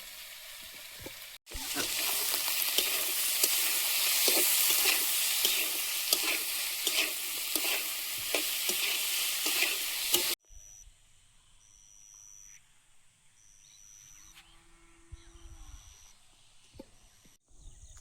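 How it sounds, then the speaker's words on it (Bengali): Nigella seeds, onion, tomato and green chilli hit hot oil with a sudden loud, crackling sizzle that runs for several seconds, then cuts to a quiet room with a faint beeping tone and a low hum. "তেলে দেবো কালো জিরে পেঁয়াজ টমেটো আর কাঁচা লঙ্কা হলুদ গুঁড়ো"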